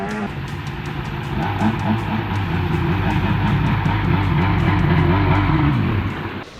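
A 1995–96 Sea-Doo XP personal watercraft engine revs hard and steadily, buzzing and rasping at high pitch with slight surges, loud and close throughout.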